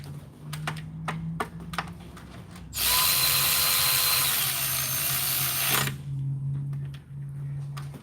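Torque wrench tightening intake bolts to 89 inch-pounds during spark plug work on a Ford Transit: a steady loud mechanical whir or ratcheting for about three seconds, framed by sparse light clicks and taps before and after.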